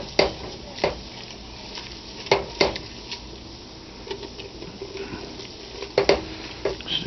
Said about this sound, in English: And you gotta keep stirring.